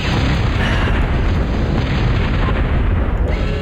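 Enemy units blow up in a real-time strategy video game, a dense, continuous roar of overlapping booms and blasts that stays loud and steady throughout.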